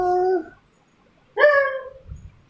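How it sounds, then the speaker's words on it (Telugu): A dog gives a short whine, then after a pause a louder, rising yelping bark that trails into a whimper, heard close and alone without talk. "అల్లవారి కుక్క బోబో"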